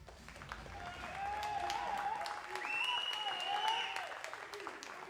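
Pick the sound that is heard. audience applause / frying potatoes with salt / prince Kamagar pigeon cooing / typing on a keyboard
audience applause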